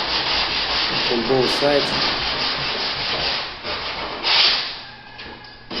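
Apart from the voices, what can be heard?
sanding a cut door edge with sandpaper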